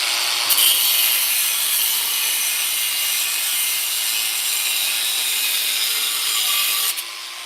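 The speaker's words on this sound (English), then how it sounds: "let's cut this end off first because it's got a spiked end on. No guard on my grinder." An unguarded angle grinder cuts the spiked end off a piece of wood, producing a loud, continuous abrasive grinding roar that starts abruptly, runs steadily for about six seconds, then stops.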